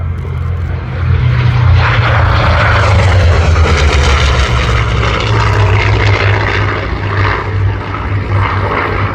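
A propeller-driven F4U Corsair warbird roars past at an airshow, a loud, sustained low engine drone that swells and lingers close overhead with no one talking.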